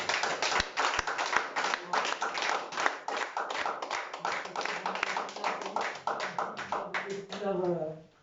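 A church congregation claps in steady rhythmic taps, dense and fairly close, with a voice speaking over the clapping near the end.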